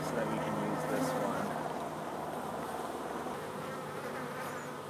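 Honeybees buzz in a dense, continuous drone while being gently brushed off a hive frame into the hive, with the swarm hum loud and close throughout and a faint hint of talk beneath.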